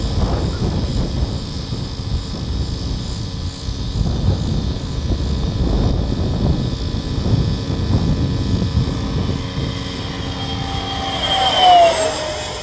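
Freewing BAE Hawk RC model jet flying with the throttle between half and two-thirds, a steady broadband whooshing roar that swells slightly near the end.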